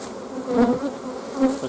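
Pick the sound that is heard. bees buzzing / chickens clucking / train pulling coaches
bees buzzing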